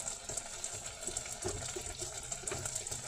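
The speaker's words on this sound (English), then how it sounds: "I just put a little bit of water in there." A small amount of water is poured into a cooking pan, making a soft splashing gush with a few brief spatters at moderate, fairly quiet level.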